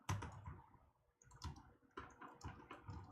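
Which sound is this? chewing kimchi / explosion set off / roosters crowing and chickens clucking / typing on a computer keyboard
typing on a computer keyboard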